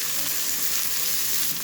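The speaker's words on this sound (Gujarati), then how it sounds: "ડુંગળીને પણ તમારે 2 મિનિટ માટે સાતળી લેવાની છે।" Sliced onions sizzle in hot oil in a pan for a Gujarati methi kadhi tempering, a steady, close frying crackle that runs without pause and with no talking.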